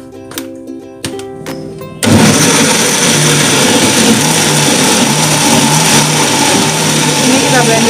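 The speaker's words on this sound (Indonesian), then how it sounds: "Kita blender dulu karena udah penuh lagi." After a couple of quieter seconds with faint voices, a blender suddenly kicks on and chops large red chili peppers with a loud, steady, close whirring roar.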